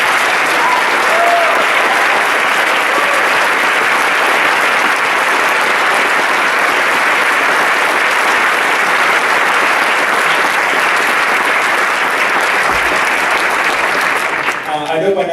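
Sustained audience applause following a symphonic band concert at an all-district school band event, a dense, loud wash of clapping filling the hall steadily before fading slightly at the end.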